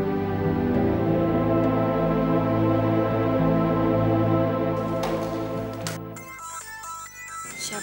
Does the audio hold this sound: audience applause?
no